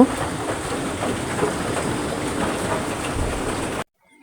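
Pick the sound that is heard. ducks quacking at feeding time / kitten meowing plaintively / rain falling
rain falling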